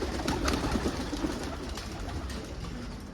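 Pigeons coo repeatedly in soft, throaty calls over a steady wash of background noise.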